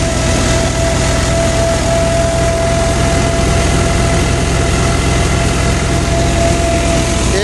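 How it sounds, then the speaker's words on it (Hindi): A Jangid Agro four-fan wheat thresher runs steadily, a loud continuous mechanical drone and hum with a sustained engine-like rumble, close by and unbroken, without any talk. "जहांगीर एग्रो अजीतगढ़ 13 के RPM में चल रही है मशीन।"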